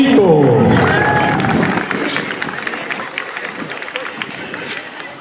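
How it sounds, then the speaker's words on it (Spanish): Crowd at a rodeo arena applauding and cheering, loud at first with a whistle-like sweep, then fading into scattered clapping and murmur over the following seconds. "El aplauso para él, para la familia, para todos los integrantes de este rancho."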